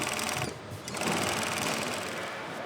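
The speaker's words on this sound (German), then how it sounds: "Der Schneider näht entlang seiner Naht einen gleichmäßigen Stehsaum von 1 Zentimeter in den Stoff zu einem Rautenmuster" A tailor's sewing machine runs a seam through mattress cover fabric for a boxspring bed, a loud, close, rapid mechanical chatter that pauses briefly and then continues steadily, with no one speaking.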